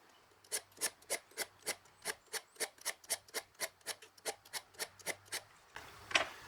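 About twenty light, evenly spaced rasping strokes of a sharpener on a broadhead, steady in rhythm, close and fairly quiet, resonating through aluminum, ending with a single scrape.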